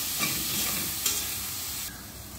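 Spices, chilli powder and garam masala, being stirred into tomatoes frying in a pan for biryani, a steady sizzle with scraping spoon strokes close by, no talking.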